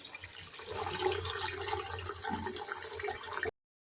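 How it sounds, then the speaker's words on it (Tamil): Water poured into a pot of cowpea rasam in a home kitchen, a steady close splashing pour that runs for about three seconds and then stops abruptly. "நம்ம இந்த ரசத்துக்கு தேவையான தண்ணியை சேர்த்துக்கலாம்"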